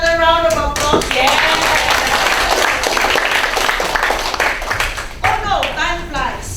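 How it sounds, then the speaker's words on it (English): An audience at a guest lecture claps in a brief round of applause that swells and fades, mixed with voices talking over it. "Let me give everyone another round of applause."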